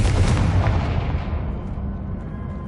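A Confringo blast spell goes off in Wizard Simulator, a single loud booming burst at the start that rolls into a long, decaying rumble.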